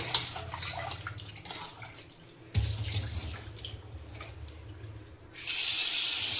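Goat meat is rinsed under a running tap in a village kitchen: a steady splashing stream of water that falls quiet briefly partway through and then surges louder near the end, with no talk.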